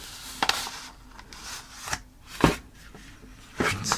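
A phone case's packaging is opened and its plastic tray handled: a few sharp, separate crinkles and rustles of plastic and cardboard, close and fairly quiet.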